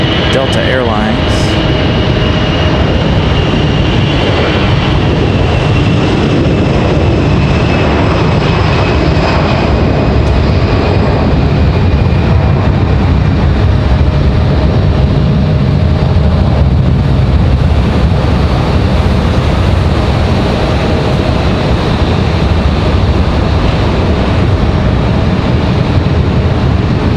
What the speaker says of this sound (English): we've got this buzzsaw sounding A319 ready to roll. This one, Delta Airlines.